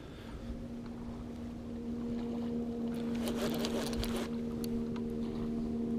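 A passing boat motor drones steadily on a river near Three Mile Island, growing a little louder as it approaches, with wind and water noise around it and no talking.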